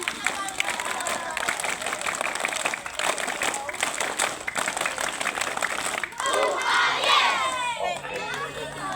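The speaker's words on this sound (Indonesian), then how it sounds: "Dua kali tepuk pramuka." Elementary schoolchildren doing the rhythmic Scout clap at a school assembly, a crowd of small hands patting in quick bursts amid shouting and cheering voices, with a brief pause before a louder, excited burst near the end.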